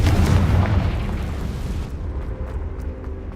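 A Confringo blasting spell detonates in Hogwarts Legacy, a loud, broad roaring boom that rumbles and slowly fades over a few seconds.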